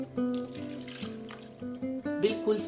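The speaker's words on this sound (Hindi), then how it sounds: "फिर हमने इसमें शामिल करना है 1 कप पानी का।" Water pours into a pot of chicken and potatoes being cooked for chicken dum aloo, a short, steady splashing stream lasting a couple of seconds at moderate level.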